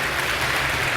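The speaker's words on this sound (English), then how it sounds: "Oh, I was looking for that applause." A crowd at the ASUS ROG Winter 2012 esports finals breaks into a thick, continuous wash of applause, loud and unbroken across the short moment.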